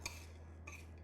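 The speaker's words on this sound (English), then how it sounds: "Stir it up." A spoon gives two quick, faint clinks against a bowl while stirring seeds with maple syrup for granola, with a low steady hum in the background.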